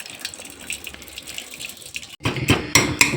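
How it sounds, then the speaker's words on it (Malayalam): Cooking water is poured off boiled vegetable pieces in a kitchen, a soft trickle at first that turns into a louder, splashing pour in the last second, close and without talk. "അപ്പൊ നമ്മൾ ഇനി അതിന്റെ വെള്ളം ഊറ്റി കളയണം കേട്ടോ."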